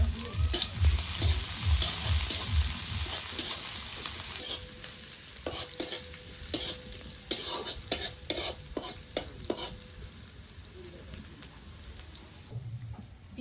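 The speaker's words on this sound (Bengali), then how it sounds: "এখন পেঁয়াজ কুচি দিয়ে দিই।" Chopped onion hitting hot oil in a kadai-style wok, with a sizzling hiss and a run of rhythmic, clattering stirring strokes close by that grow sparser and sharper toward the end.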